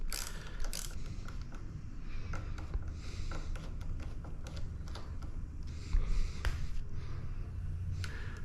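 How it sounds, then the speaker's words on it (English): A socket wrench loosens the brake lever screw on a Benelli 125/135 motorcycle, producing quiet, rapid ratcheting clicks over faint background noise. "use your socket to loosen it up"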